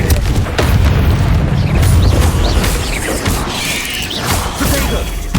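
In the Hogwarts Legacy video game, Confringo blasting spells burst with loud booms and crashing debris, several heavy impacts rolling one after another over a continuous rumble of combat noise.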